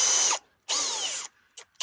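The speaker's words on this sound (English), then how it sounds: "I'm marking them and drilling them and stuff." Power drill boring holes through vehicle fender flares with a 5mm bit on a Toyota 80 series build, two sustained high whining bursts with pitch sweeps, then two short blips, close and loud with no talking.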